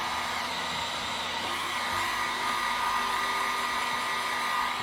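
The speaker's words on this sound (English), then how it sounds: "let's see if we can dry it up" A handheld hair dryer blows over an alcohol ink flower painting, giving a steady, loud, close whir that holds unbroken throughout with no talking.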